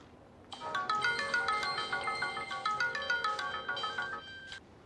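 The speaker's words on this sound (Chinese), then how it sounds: "啊，没事，你有重要电话先接。" A phone rings with an incoming call, a bright melodic ringtone repeating in quick pulses for about four seconds, fairly close and alone before stopping.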